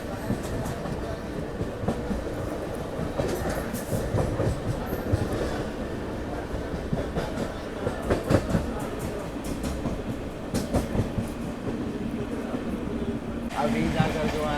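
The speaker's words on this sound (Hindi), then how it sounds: "ट्रेन पहुंचने वाली है देहरी ऑनसोन।" The Amrit Bharat Express runs on rails on the Delhi to Gaya route, heard from inside as a steady rumbling roll with rhythmic clacks over rail joints, while someone talks over it.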